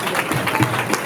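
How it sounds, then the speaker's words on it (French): Guests at a wedding break into brief, steady applause, a dense patter of many hands clapping at moderate distance. "On applaudit pour lui,"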